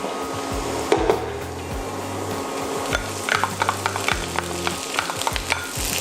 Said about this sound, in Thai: จากนั้นเราใส่กระเทียมสับลงไปค่ะ ผัดพอหอมนะคะ